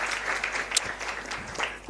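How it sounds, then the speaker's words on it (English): An audience at a public-contract monitoring launch event claps for a speaker, a steady, moderately loud patter of many hands with a few sharper individual claps standing out. "Let's not be shy. Let's clap for her."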